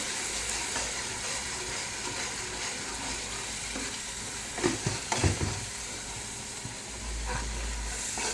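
Bird meat curry simmering and being stirred in a pot, a steady low sizzle and hiss with a few louder scraping stir strokes near the middle, no talking.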